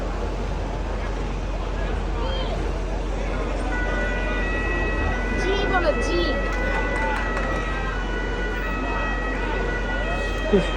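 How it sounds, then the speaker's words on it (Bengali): Fire service vehicles arrive at an accident outside a residential hotel in Turin, Italy, sirens wailing in rising and falling tones under loud street noise while people talk nearby. "আরো আসতেছে ফায়ার সার্ভিস"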